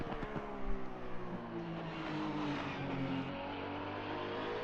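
A Porsche race car engine in a sim racing game revs hard out of corners, a loud sustained roar with shifting pitch and a brief rough burst at the start, continuous throughout.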